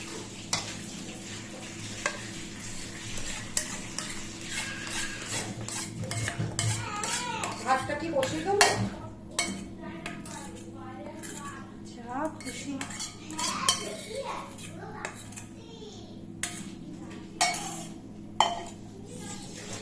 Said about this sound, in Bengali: আমি এই মশলাটা হাত দিয়েই মাখাচ্ছি